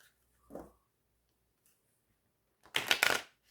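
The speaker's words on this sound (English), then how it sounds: "that satisfying sound of mat cards bridging" Matte-finish oracle cards riffle shuffled and bridged, with one short soft riffle followed by a louder, close cascade of flicking cards as the deck is bridged back together.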